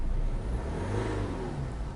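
A European diesel car engine revs through an Akrapovic muffler with a deep, rumbling drone that swells and eases over a couple of seconds, loud and close, with no one speaking.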